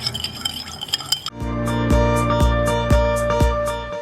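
A utensil clinks rhythmically against a bowl while sugar, salt and rice vinegar are stirred for sushi rice. The taps come about twice a second over a resonant ringing tone.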